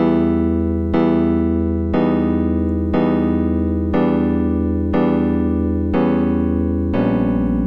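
Loud Sonic.exe chase music from Dead by Daylight, an electronic game tune looping a steady pattern of sustained chords, changing roughly once a second, with a deep bass underneath.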